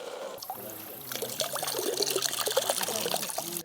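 Water trickles and splashes steadily while gold is rinsed from a sluice concentrate, a close, continuous liquid dribble that builds after the first second and stops abruptly at the end.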